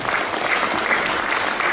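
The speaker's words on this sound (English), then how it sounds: "Please clap your hands together to encourage our performance." Audience clapping at a multicultural festival stage show, steady close applause from a modest crowd lasting the full moment, with no talk.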